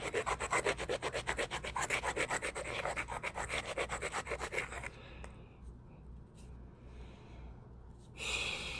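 A stone core's edge is ground during flintknapping, giving a fast, rhythmic rasping scrape for about five seconds, then a quieter scratching and a final brief burst, close up with no speech.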